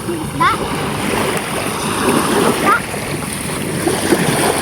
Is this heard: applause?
no